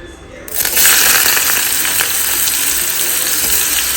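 Onions hit a hot wok of oil for fried Maggi noodles, setting off a loud, steady sizzle that starts abruptly after a brief quiet moment and holds strong throughout.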